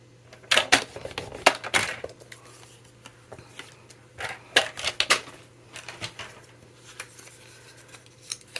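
Paper for a Graphic 45 Alice's Tea Party scrapbook album is scored and folded, producing quick bursts of crisp scratching, tapping clicks and rustles close up, with pauses between strokes and no speech.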